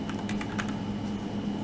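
Keys on a computer keyboard clatter in quick, uneven bursts of taps, fairly close and clear, while HTML code is being typed.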